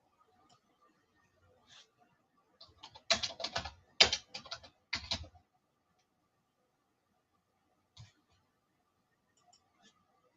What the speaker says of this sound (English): Seriously, fingers are typing.